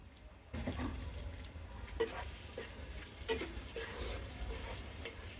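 Prawns and tomatoes stir-fry in a pan, a soft continuous sizzle broken by scraping stirs and small splashes, faint and close with no talking.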